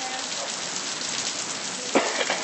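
Steady rain falls outdoors as a dense, even hiss of drops spread across the whole clip, with a brief louder patter near the end.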